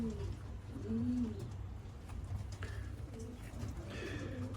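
Young pigeons packed into a shipping box coo softly and repeatedly at close range, their low throaty calls over a quiet background with faint faraway chirps.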